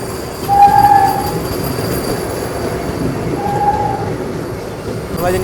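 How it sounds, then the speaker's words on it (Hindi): Close by, a Vande Bharat express train passes with a loud, steady rumble of wheels on rails. Faint brief squeals ring out twice over the roar. "यहाँ पे क्रॉसिंग वंदे भारत"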